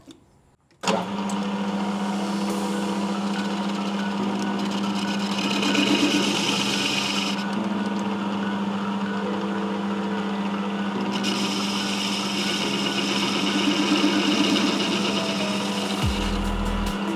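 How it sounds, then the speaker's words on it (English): A metal lathe faces an aluminium casting, the cutting tool grinding steadily over a running motor hum, with the tone shifting as it passes hard spots in the metal; loud and close, no talk. "Even though it's aluminium and it's a casting, you can still hear some hard spots in it."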